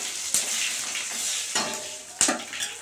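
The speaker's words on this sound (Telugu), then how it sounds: "ఇప్పుడు పోపు దినుసులు ఆవాలు, జీలకర్ర, మినపప్పు ఇవి వేసుకొని కలియబెట్టాలి" Mustard seeds, cumin and urad dal tempering sizzling in hot oil in a pan for an Indian dal, a steady close hiss with a few sharp pops and stirring scrapes, no talking.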